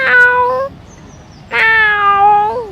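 A boy vocally mimics a cat meowing, giving two loud, drawn-out meows separated by a short pause, each starting with a bright rise and then sliding slowly downward, heard alone and close.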